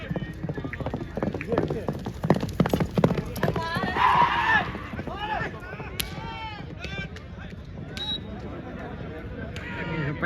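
Rapid hoofbeats of mares galloping in a horse race at Talwandi Sabo, Punjab, a loud drumming clatter under excited commentary and crowd voices, with a brief whinny partway through.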